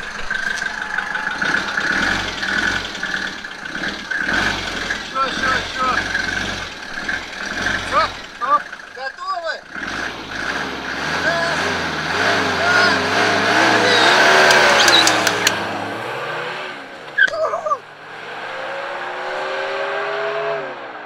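Turbocharged Mercedes W123 cars with OM 615 diesel engines rolling up to a race start, engines idling and revving loudly, pitch rising and falling with short throttle blips, while people talk over them.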